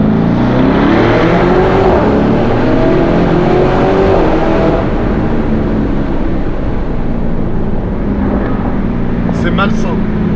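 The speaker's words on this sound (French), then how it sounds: "Le son de l'échappement." A Lamborghini Urus SUV's engine and exhaust roar loudly and continuously as it accelerates, a dense rising drone heard from inside while people talk over it.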